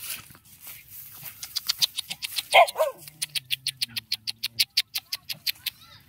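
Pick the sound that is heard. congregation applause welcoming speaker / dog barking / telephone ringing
dog barking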